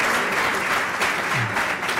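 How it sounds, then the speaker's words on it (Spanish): Steady audience applause fills the room at the close of a talk on defeating corruption in Peru, dense and continuous for about two seconds with no voices over it. "un fuerte aplauso para él"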